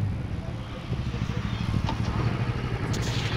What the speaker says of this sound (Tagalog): gumagana na po ito pong motor po natin. Umaandar na po siya.